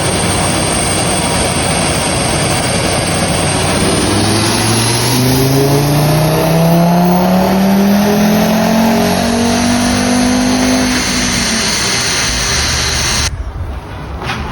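An Audi RS3 engine runs on a dyno, its loud roar climbing steadily in pitch over several seconds before cutting off abruptly near the end.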